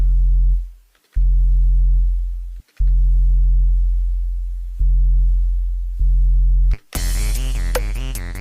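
A low, buzzy distorted sine-wave dubstep synth tone from the Vital synthesizer repeats in sustained notes with brief gaps, ending in a brighter, wobbling burst of distorted sound.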